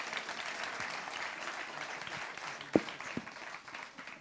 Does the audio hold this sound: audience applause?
yes